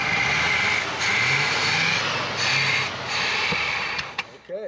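A 1968 Oldsmobile Cutlass with a fresh battery and gas poured down the carburetor runs with a steady rough idle, the engine note rising and dipping a few times, with people talking over it.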